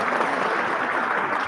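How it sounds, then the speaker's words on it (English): An audience claps steadily for a brief stretch at a business interview event, a dense, even wash of applause with no voices. "So round of applause here for that."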